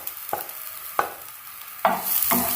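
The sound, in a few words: sautéing crushed garlic and onion in a pan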